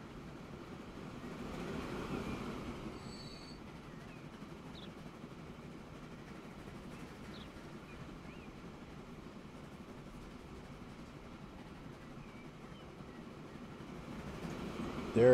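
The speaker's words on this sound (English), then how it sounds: "there's the train going to that one" Trains running in Transport Fever 2, a steady low rumble of rolling rail traffic that holds evenly throughout, slightly louder near the start and swelling again at the very end, with no talk over it.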